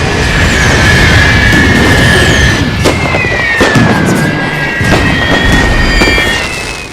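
Artillery in The Great War mod of a video game: a dense, loud wash of booming shots and rumbling blasts that barely lets up, with whistling shell sounds drifting over the top.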